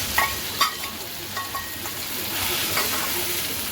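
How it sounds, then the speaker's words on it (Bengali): Dal hits hot ghee in a pan while cooking filling for dal puri, giving a steady close sizzle and hiss with a few sharp stirring scrapes and spatters. "ঘিটা গরম হয়ে গেছে এবার আমি ডালটা এর মধ্যে দিয়ে দেবো"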